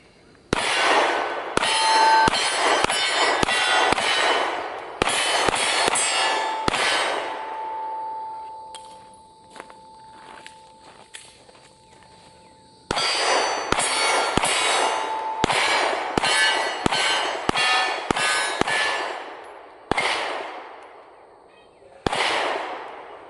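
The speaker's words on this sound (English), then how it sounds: "some shooting footage in here, but I have no problem running this gun fairly fast and keeping the rounds on target with this trigger" A Sig Sauer P365 pistol fires rapid strings of loud, sharp shots. The strings are broken by short pauses, and a faint ringing tone lingers during one gap.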